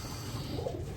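Racing pigeons cooing in their loft, soft repeated low coos over a steady background hum, brief and close.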